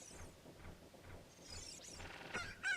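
Short game-style clucks from a cucco chicken in Ocarina of Time recur at a steady pace, then give way to louder, higher squawking and chirping toward the end, set against quiet background game sound.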